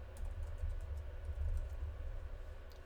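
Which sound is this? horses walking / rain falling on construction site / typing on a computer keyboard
typing on a computer keyboard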